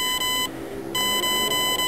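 An ETTI electronic speed controller in programming mode gives shrill, sustained electronic beep tones, loud and close, with one beep, a short gap, then another tone.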